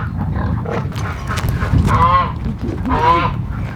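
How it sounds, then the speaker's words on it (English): Three turkeys with leg problems, kept apart on a farm, give a couple of short, wavering nasal calls over a low background rumble. "these are our 3 turkeys that we separated because they've got the leg issues"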